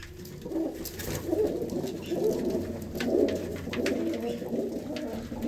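Several pigeons coo continuously in soft, overlapping murmurs, a steady low chorus with faint background noise.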